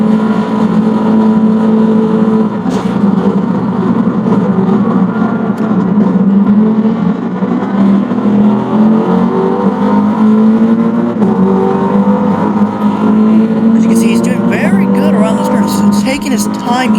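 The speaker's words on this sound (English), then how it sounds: "The cockpit of V. Gonzalez, driving for Team AMG." Team AMG Gr.3 race car at Daytona in Gran Turismo, heard from the cockpit: a loud, sustained engine drone with rising and falling revs throughout, a commentator talking over it.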